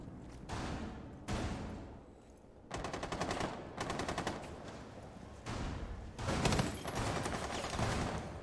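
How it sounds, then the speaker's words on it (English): Bursts of rapid automatic gunfire in Rainbow Six Siege, several sustained volleys with short gaps between them, loud and close. "Exchanging gunfire between Alan and Oscillation here."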